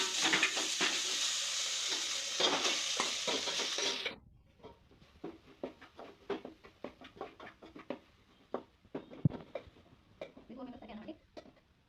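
Garlic and chilli sizzle steadily in a hot pan for about four seconds, then cooked rice is mixed in, giving a string of quick, close spoon scrapes and taps against the pan.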